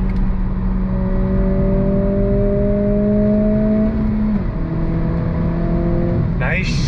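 A 2023 Acura Integra sport compact car drives and accelerates, its engine note holding a steady rising drone that drops briefly as if shifting gears, then continues, with faint talk in the cabin.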